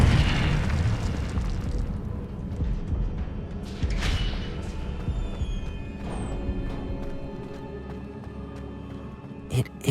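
Incendio fire spell cast in Hogwarts Legacy, a dense roaring blast of flame with heavy rumbling bursts that swell and sustain, loud and close, ending in a sharp pop.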